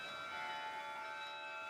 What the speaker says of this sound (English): It's the mystery of the toning of the bells that goes deep into the heart